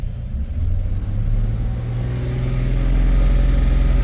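A Chevrolet Silverado truck engine with an idle fault revs up as fuel is given, the low rumble swelling steadily louder and holding at a strong, close drone.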